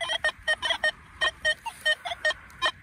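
Short electronic tones from an XP Deus II metal detector, about a dozen broken, warbling bleeps in an uneven rhythm, close and fairly clear over faint ground noise.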